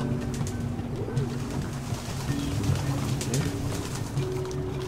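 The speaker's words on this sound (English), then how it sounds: "Follow the pigeons!" Flocks of pigeons coo in a video game, a steady overlapping stream of low murmuring coos over busy ambient game noise, moderately loud and continuous.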